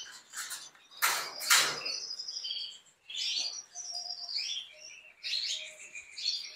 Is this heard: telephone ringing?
no